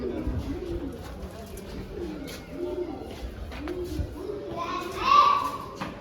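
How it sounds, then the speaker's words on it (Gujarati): Low, soft cooing of pigeons at the 11th-century Modhera Sun Temple, repeating in a gentle rhythm, with a short brighter chirp near the end and distant background chatter. "આમ જુઓ કબૂતર દેખાય છે"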